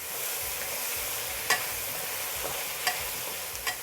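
Potatoes and onions stir-fried in a wok with dark soy sauce, sugar and oyster sauce: a steady low sizzle, with a few sharp clacks of a spatula scraping the pan now and then.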